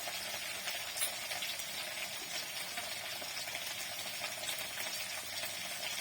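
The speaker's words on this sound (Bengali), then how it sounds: "জল দিয়ে মশলাটা একটু ভেজে রাখবো" Ground cumin, coriander and turmeric fry with a splash of water in a pan, giving a steady, soft, continuous sizzle and hiss at moderate distance, with no voices.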